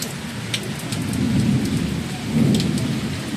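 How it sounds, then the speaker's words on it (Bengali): Heavy rain pours down steadily while low thunder rolls and swells twice, fairly close, with no voices present. "আর কি বৃষ্টি জানো, এত বৃষ্টি, তেমনি মেঘ ডাকছে"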